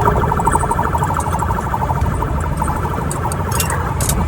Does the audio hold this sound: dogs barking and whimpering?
no